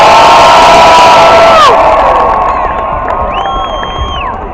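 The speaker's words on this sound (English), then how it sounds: "How about a Ravens round of applause for the Baltimore Ravens cheerleaders?" Pep rally crowd at a Baltimore Ravens football event cheers loudly for the team's cheerleaders, a dense wash of shouting and whoops that fades slightly after a couple of seconds.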